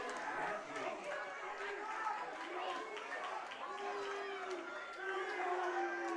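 A raucous crowd in packed stands at a high school baseball game at Athletic Park produces a constant murmur of chatter and scattered shouts, heard at a distance beneath a nearby talking voice.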